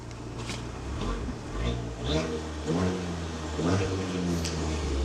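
A small Abarth 595 car engine idles and then revs several times in short rising bursts, close by, with a voice briefly under it.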